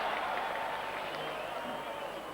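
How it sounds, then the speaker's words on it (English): Crowd noise at a cricket Test match between India and Sri Lanka in 2001: a broad, steady roar of distant spectators that holds throughout the clip and fades only slightly. "Huge cheer from the crowd"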